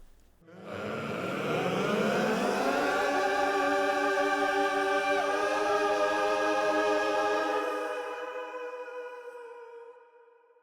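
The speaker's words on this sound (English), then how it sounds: "getting them all to sing certain notes or to swell certain notes" Many voices sing together in sustained, overlapping notes that swell and hold in rich harmony, then fade away, with no talking.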